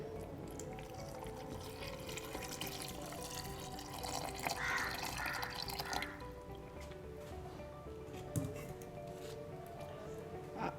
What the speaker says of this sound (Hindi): अब इसमें आधा लीटर दूध शामिल करें।